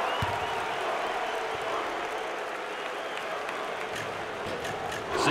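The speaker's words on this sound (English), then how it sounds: "The crowd appreciates their effort." Basketball arena crowd at a Princeton vs Duquesne NCAA game applauding in a steady, dense wash of clapping and cheering that swells slightly louder at the end.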